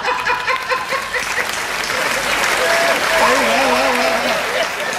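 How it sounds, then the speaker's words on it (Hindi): Listeners at a Hindi kavi sammelan poetry gathering keep up continuous applause while a voice speaks over the clapping. "तालियां कम आ रही हैं आपकी"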